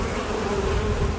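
Honey bees swarm around their hives at sunset, a dense continuous buzzing hum that is close and steady throughout.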